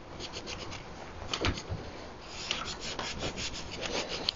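Excess glue being scraped off wood during gate leg table construction: continuous close rasping strokes of a tool across the surface, with a few sharper knocks, no voices.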